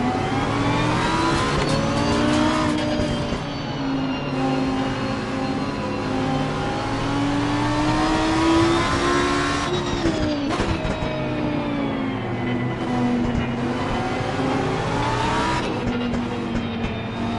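Race car engines in Assetto Corsa Competizione drone loudly and continuously, several cars revving and shifting pitch together through corners, with occasional tire squeal under the steady roar.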